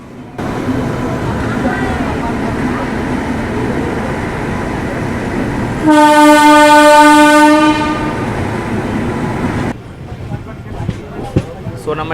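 A train on the Tirupati to Madurai run rumbles steadily, then a loud, sustained horn blast sounds for about two seconds midway before the running noise continues and fades.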